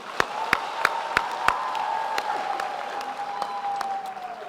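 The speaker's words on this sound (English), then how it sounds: "I think that deserves another round of applause." A graduation ceremony audience applauds in a steady wash of clapping, with a few sharp, close claps standing out and a sustained tone running underneath.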